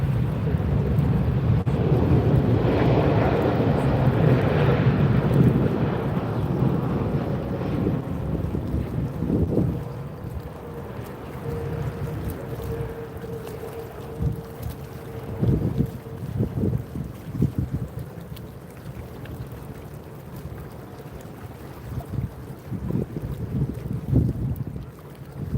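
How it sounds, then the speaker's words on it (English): A Scoot Boeing 787-9 Dreamliner arriving from Singapore at Sydney International Airport: a heavy, sustained low jet roar, loudest early and then easing, with wind buffeting the microphone and no voices. "we have Scoot coming in from Singapore on the Boeing 787-9 Dreamliner"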